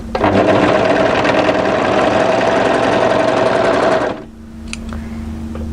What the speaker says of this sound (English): place it right sides together and overlock that short seam